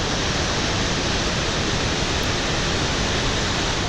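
Victoria Falls on the Zambezi River in Zimbabwe roars in a dense, unbroken wash of water noise, loud and steady from start to finish with no voices.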